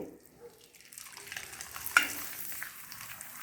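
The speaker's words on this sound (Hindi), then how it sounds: "अब हम आपको इनको तल कर दिखाएंगे। हमारी गरम है, हम पापड़ भूनेंगे।" A black pepper potato papad fries in hot oil with a soft, close sizzle that builds gradually. There is a brief bright crackle near the middle, and it stays fairly quiet overall.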